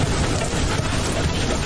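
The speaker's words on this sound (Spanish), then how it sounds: "Hay que salir del granizo antes de..." Hail pelts a land sailer vehicle in the video game Far: Lone Sails, a dense, steady broadband patter that stays loud and continuous throughout with no talk over it.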